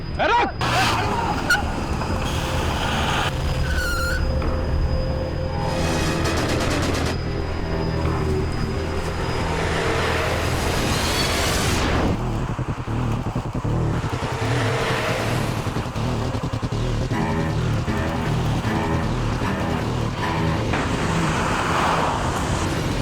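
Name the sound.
vehicles driving fast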